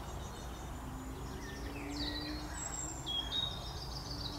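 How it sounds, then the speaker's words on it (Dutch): Small birds chirp outdoors in quiet natural surroundings, with short high calls scattered through the clip, some near and some farther off, over a soft background hiss. "Vogeltjes."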